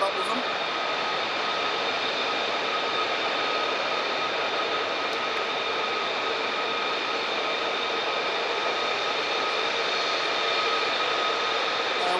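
An F-35 jet performs a quick climb at RAF Lakenheath, producing a loud, continuous, steady engine roar that holds for the whole stretch.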